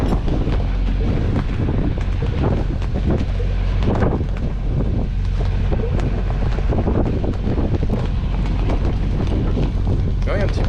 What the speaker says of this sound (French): Il y a un petit peu de zef, hein. On a 10 nœuds.